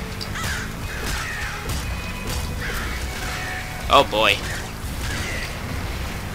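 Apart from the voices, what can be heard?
crows cawing in the video game Nuclear Throne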